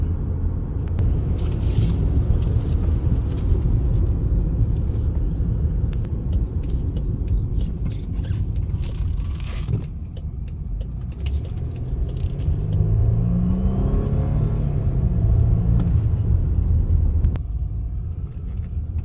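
A silver 2015 BMW 328i cruising on the road, heard from inside as a steady low rumble of engine and tyre noise, with a few thumps and rattles over bumps.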